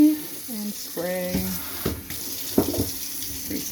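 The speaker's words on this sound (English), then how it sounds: "Actually, this one comes off. So yeah, if I want to have the water go on and spray." A kitchen sink faucet with a pull-out sprayer in a tiny home runs water in a steady rushing stream, close and fairly loud, while someone talks over it.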